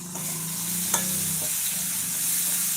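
Shallots frying in a pan for biryani, a steady close sizzle with a light clatter of stirring and one brief sharp knock near the start, no voices.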